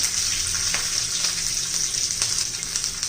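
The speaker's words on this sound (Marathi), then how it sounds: "त्याच्यात मिरची भाजून घ्यायची आहे, लसूण पण भाजून घ्यायचं आहे. छान असं तेलात तळून घेऊया." Green chillies and garlic frying in hot oil, a loud constant bright sizzle with a few soft clicks of a spoon against the pan, no voices.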